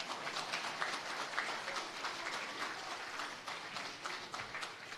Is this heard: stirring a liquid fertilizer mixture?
no